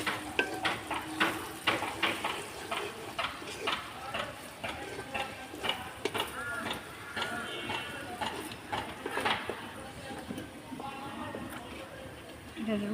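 Garam masala and bay leaves sizzle in hot oil for a duck curry, with steady frying crackle and repeated scraping stir strokes of a spoon against the pot, close and fairly quiet, no one speaking.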